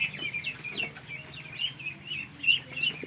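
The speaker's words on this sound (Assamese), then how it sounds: "চাওক চাওক পুৰা হাঁহখিনি কি সুন্দৰ হৈ আছে" On a farm, 25-day-old ducklings peep and cheep in a continuous chorus of high, quick calls, close by and fairly soft.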